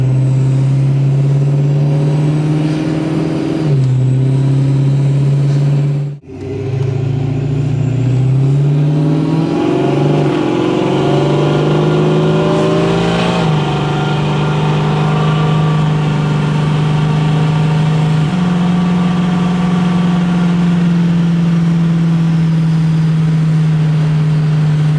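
Supercharged Ford Mustang Foxbody engine running steadily, a loud close droning hum with a few brief revs and pitch shifts early on, then settling into an even idle throughout.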